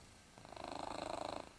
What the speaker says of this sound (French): Je sais pas si vous entendez Fudge ronronner